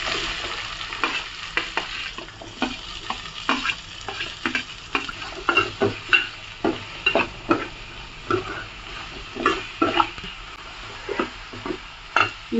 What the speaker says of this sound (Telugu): ఇందులో మరి కొంచెం నూనెకి పోసుకొని ఒక స్పూన్ జీలకర్ర కూడా వేసి ఫ్రై చేసుకోవాలి